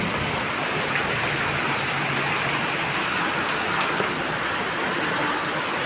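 Heavy rain during a flood in Sukabumi, West Java, a dense, constant hiss of downpour at a steady loud level without pauses or voices.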